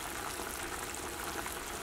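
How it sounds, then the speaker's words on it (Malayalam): A pan of syrup made with raisins and dates for plum cake boils steadily, a dense continuous bubbling and fizzing heard close up with no voices. "ചേർത്ത് കഴിഞ്ഞിട്ട് നന്നായിട്ട് തിളക്കുന്നുണ്ട്."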